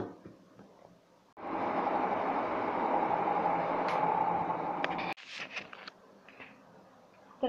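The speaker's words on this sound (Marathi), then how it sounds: "आपण हे सर्व मिक्सर मध्ये वाटून घेऊया।" Mixer grinder grinding fried wheat dough balls into crumbs for churma laddu, a loud steady whirring roar lasting about four seconds, then stopping abruptly, followed by quieter clattering and handling noises.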